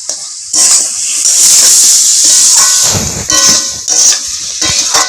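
Pre-fried eel (kuche) stir-fried in a hot pan in a Bengali kitchen, loud bursts of hissing sizzle with stirring scrapes and brief pauses between.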